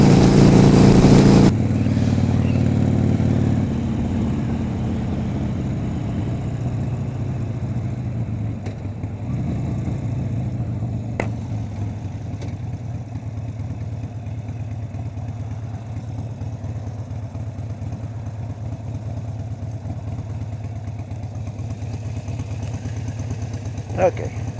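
Motorcycle with a 4.5 gallon tank cruising down the freeway, a loud steady engine drone with wind rush that settles toward a lower rumble, with a voice talking over it.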